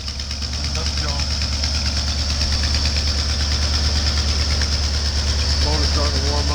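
A snow-packed Ford F-250 pickup engine idles steadily after a cold start, a loud, continuous low rumble with a faint rhythmic ticking throughout.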